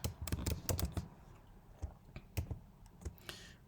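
A computer keyboard clatters in a quick cluster of close keystrokes, followed by slower, scattered individual taps, all fairly quiet.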